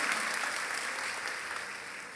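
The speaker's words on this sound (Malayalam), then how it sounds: "ഒരു കൈയടി അവന് കിട്ടിക്കോട്ടെ." An audience at a gathering of religion teachers gives Sharon a round of warm, steady applause that slowly fades across a couple of seconds.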